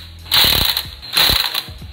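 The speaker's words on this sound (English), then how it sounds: "when you tighten your wheels with the impact gun" An impact gun tightens wheel lug bolts in two loud, close bursts of rapid rattling hammering, each lasting about a third of a second, separated by a short pause.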